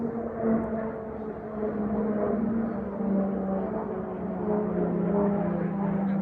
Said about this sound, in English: it's a very old plane going over. It's an old warplane.